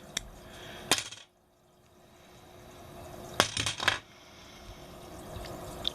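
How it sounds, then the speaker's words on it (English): A few sharp clicks of scissors snip thread while tying a copper-bodied spider fly for grayling, close and quiet, with a short silent gap between the bursts. "And I'm going to come in and snip this out."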